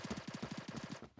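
Rapid automatic gunfire from a video game, a fast regular burst of about a dozen muffled shots lasting around a second, then cutting off.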